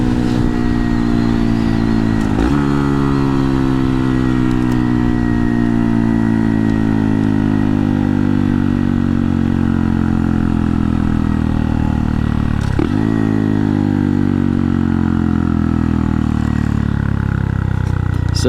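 A Honda Monkey motorcycle with a Yoshimura low-volume exhaust insert drones loudly and steadily at speed, its engine note climbing through the gears with two brief dips at shifts, close up.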